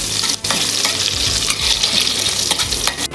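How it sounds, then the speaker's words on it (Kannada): Mustard seeds, onion and curry leaves frying in coconut oil in a pan, a loud, dense crackling sizzle with steady stirring scrapes and brief spoon knocks, close up and with no talk. "ಸಾಸಿವೆ ಈರುಳ್ಳಿ ಹಾಕಬೇಕು ಕರಿಬೇವು ಫ್ರೈ ಮಾಡಬೇಕು"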